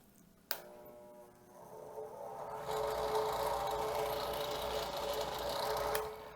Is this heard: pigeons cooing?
no